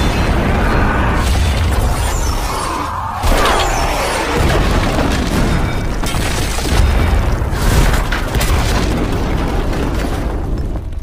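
Gas cylinders are shot and blow up in an action scene, giving a dense, continuous roar of loud booming blasts and rumbling bursts that run through the whole stretch with no speech.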